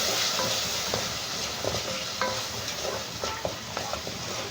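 Paprika, curry, turmeric, cinnamon, black pepper and salt are stirred in a hot pan, giving a continuous soft sizzle with scattered scraping taps from the utensil.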